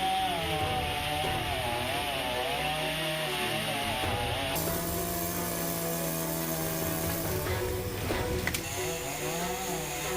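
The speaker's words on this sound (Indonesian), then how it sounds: "mengevakuasi batang pohon dengan memotongnya menggunakan gergaji mesin" A chainsaw roars steadily throughout, its engine pitch shifting as it bites into a fallen tree trunk, loud and close with no talking.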